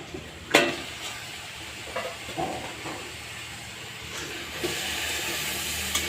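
Vegetable dish being stirred in a pan, a soft sizzle and steam hiss with a few sharper spatula knocks and scrapes, fairly quiet and close.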